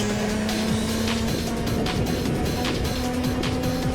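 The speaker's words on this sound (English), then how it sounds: "Look at that group of karts through the hairpin corner there." A pack of racing karts at a kart club race meeting swings through a hairpin corner, engines droning and buzzing together in a dense continuous roar, no voices over it.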